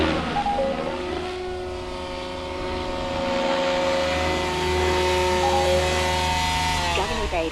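Goblin 500 RC helicopter's electric motor and rotor head spinning at about 1,890 rpm, a steady close whine with layered harmonic tones that swell in pitch and loudness, a voice talking briefly over it.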